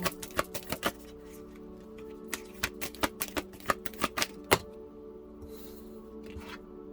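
Tarot cards shuffled and drawn during a reading, a string of sharp, separate card snaps and flicks through the first four and a half seconds, then near silence.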